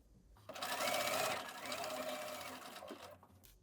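A sewing machine runs steadily, stitching a 5/8-inch seam along a diamond-shaped trouser hem, with a close, even whirring hum for about two and a half seconds before it slows and stops.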